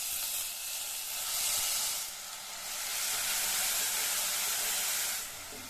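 Ground shallot paste sizzles in hot oil with mustard seeds and cumin, a steady bright hiss that swells and eases over several seconds, close and continuous with no talking.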